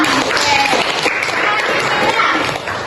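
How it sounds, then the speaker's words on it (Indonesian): A classroom group clapping for a student named Elvis during a lesson, a short burst of applause mixed with speech over it. "tepuk tangan untuk Elvis ya"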